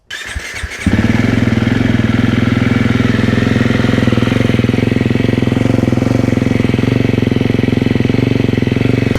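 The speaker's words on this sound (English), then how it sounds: "Now I'm going to go ahead and release the cold start back to where our idle should be." A 2024 KTM 350 XW-F motorcycle with a remapped ECU fires up on a cold start, a brief starter crank followed by a loud, rapid, steady close-up engine idle that continues unbroken, with no talking.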